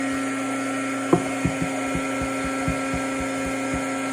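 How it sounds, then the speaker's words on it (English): Heat gun warming up for paper crafting, a steady mid-level blowing hum with a tonal whine throughout, plus a few faint ticks near the start. "I'm turning on my heat gun just to get it warmed up."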